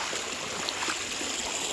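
Water trickles steadily somewhere outdoors in a cool spot, a continuous close splashing flow with no voices over it.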